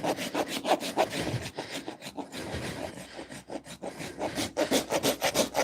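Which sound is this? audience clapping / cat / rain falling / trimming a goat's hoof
trimming a goat's hoof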